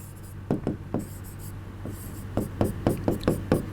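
A pen writes out a question on a board or page, making a run of quick, close scratching strokes in two bursts separated by a short pause, with no voice heard.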